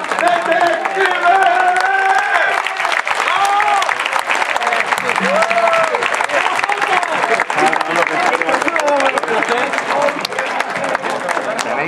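A crowd applauds loudly and continuously, dense clapping filling the whole stretch with some cheering mixed in.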